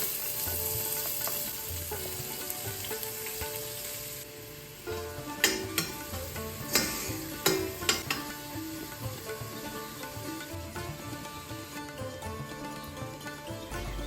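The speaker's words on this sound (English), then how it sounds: "Saute onion till it's soft." Onion sautés in coconut oil and ghee in a cooking pot, giving a continuous soft sizzle. Several sharp utensil clinks and scrapes land around the middle, and no one speaks.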